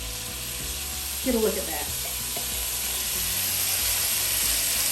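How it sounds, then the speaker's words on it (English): Minced garlic and rosemary sizzling in a hot frying pan, a steady bright hiss of frying throughout with a brief stir or scrape, while a person speaks briefly nearby. "we're just going to add some minced garlic to the pan"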